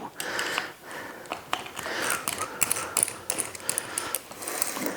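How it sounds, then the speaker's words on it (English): An Allen key works bolts loose on a Giant TCR road bicycle, making rapid, close ratcheting clicks and faint metallic scraping throughout. "Right, let's get these bolts all the way undone."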